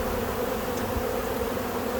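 A large honeybee colony in spring, queenless and crowded with bees, gives off a steady, dense droning hum that holds evenly throughout, close and continuous with no voices.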